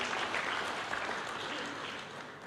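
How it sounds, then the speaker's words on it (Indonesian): A church congregation breaks into applause during a sermon, a fairly quiet but steady wash of many hands clapping that eases slightly toward the end. "Berikan tepuk tangan yang meriah buat Tuhan."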